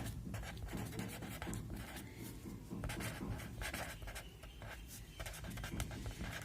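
Pen scratching steadily across paper while a math formula is written out, close and continuous with short scribbled strokes and no talk.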